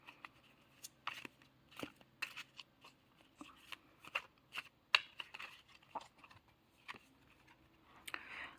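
Tarot cards are shuffled by hand, giving a run of soft, rapid papery riffles and taps that come in short irregular bursts, close and quiet.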